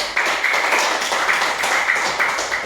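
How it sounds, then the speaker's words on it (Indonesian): A classroom of students claps in short rhythmic bursts of tapping hand claps, fairly close and steady, with no one talking over it. "Betul ya, tepuk tangan."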